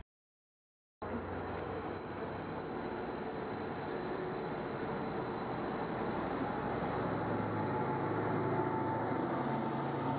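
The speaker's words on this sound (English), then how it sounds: "I can get on this platform and watch a train" A train runs at a station platform in Norfolk with a steady rumble and a faint high wheel squeal, starting after a second of silence and continuing without talk.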